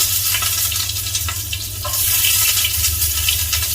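Loud, continuous sizzling of mustard seeds spluttering in hot oil, with a dense crackle of small pops throughout.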